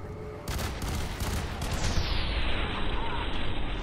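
A mounted gun fires in the shooter game F.E.A.R. 3, a dense, loud, continuous burst of automatic fire with booming impacts, sustained through the whole moment.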